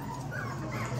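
Newborn puppies in a litter of five whimpering and yipping close up, a thin high-pitched whine running continuously over a low background hum.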